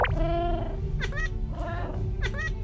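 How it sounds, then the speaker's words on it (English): A cat in the video game Minecraft meows three times in a row, each call rising and falling, clear and close over a steady low background hum. "Ooh, a cat."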